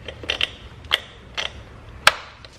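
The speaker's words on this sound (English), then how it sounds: "So I'm going to remove the PVC hose here just for some clearance." A hose is worked off a small-block Chevy engine during a valve cover gasket job, giving a few sharp plastic clicks and creaks spaced irregularly, close by, with a quiet background between them.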